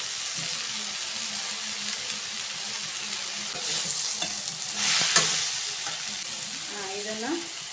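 Mutton sizzles steadily in hot oil with a sambar tempering, a continuous close frying hiss with occasional stirring clatter and a faint voice near the end.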